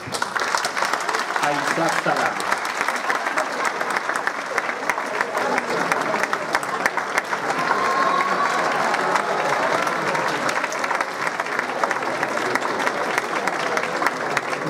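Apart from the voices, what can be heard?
audience applause welcoming a speaker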